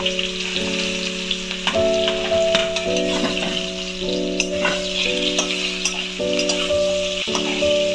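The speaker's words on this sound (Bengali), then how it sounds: "এবার আমি এই তেলের মধ্যেই এঁচোড়গুলো আস্তে করে দিয়ে দেবো, ভেজে নেবো এঁচোড়গুলো একটু" Young jackfruit pieces sizzle and crackle steadily in hot oil, loud and close, with occasional stirring clicks and a faint repeating electronic beep underneath.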